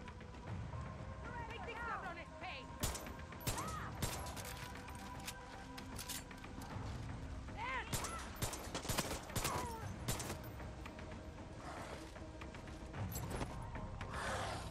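Heavy cannon gunfire in the video game Far Cry 6, a dense sustained barrage of booming shots with sharp bursts clustered around several moments, running under ongoing talk and game noise.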